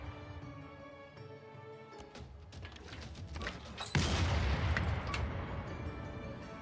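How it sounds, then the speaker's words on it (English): Artillery in Civilization VI fires on an encampment: a sudden heavy boom with a rumbling, crackling blast erupts midway through quiet background game music, then fades slowly. "let's go ahead and hit the encampment with at least one artillery"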